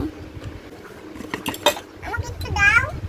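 A spoon stirring milk tea in a cup, quick metallic clinks and scrapes against the rim in short bursts, close by, with a child's and an adult's voices talking over it.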